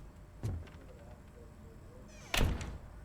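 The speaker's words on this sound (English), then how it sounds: "Hey, I can just shut random doors." Doors being shut inside the video game RoboCop: Rogue City, two separate dull thunks about two seconds apart, heard close and alone against a quiet background.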